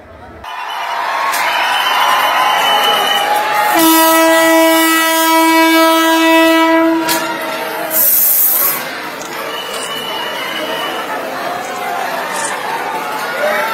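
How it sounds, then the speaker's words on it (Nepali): Train pulling into Janakpur station in Nepal, with a long, loud, steady horn blast over a constant hiss and rumble, then continuing noise and a brief sharp burst later. "रेल शुक्रबार नेपालको जनकपुर धाम आइपुगेसँगै ठूलो संख्यामा रेल हेर्न पुगेका स्थानीयहरू उत्साहित बनेका छन्"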